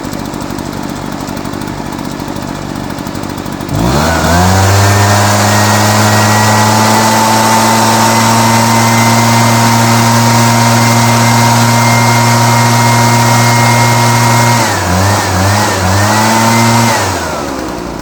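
An Echo leaf blower's small two-stroke engine fires up and runs loud and close, holding a steady high rev for about ten seconds, dipping briefly, then revving again over a constant background hiss.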